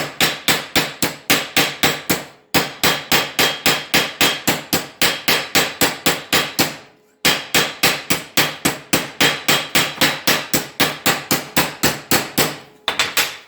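Metal hammer striking a sheet metal panel to raise a slight crown, done with simple hand tools; loud, rapid, evenly paced blows in long runs broken by two brief pauses, with no talk.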